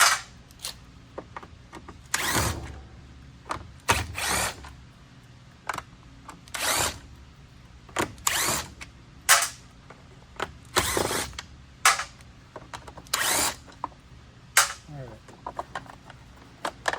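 Short bursts of a power driver back out Phillips screws from a Dirt Devil Endura Express vacuum, a dozen or so close whirring pulses separated by pauses and handling clicks.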